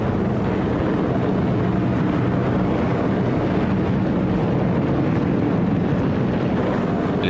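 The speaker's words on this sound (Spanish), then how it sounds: "Más de 1000 aviones despegaron hacia la ciudad alemana de Colonia." Masses of World War II bomber aircraft taking off, over a thousand planes bound for Cologne, Germany, a thick continuous drone of propeller engines that holds steady and loud throughout without breaks.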